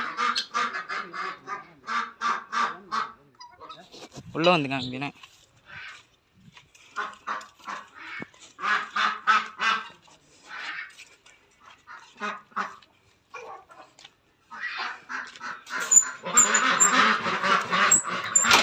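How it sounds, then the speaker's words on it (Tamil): Farmyard ducks, around ten of them on a Tamil village farm, quack in short bursts close by while people talk over them and other farm animals. "வாத்து இங்கே இருக்குங்க."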